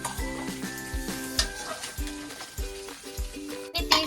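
Mint and tomato frying in a pan for mint chutney, a steady sizzle broken by regular stirring scrapes and a few clanks of a utensil against the pan, fairly close, with no talk.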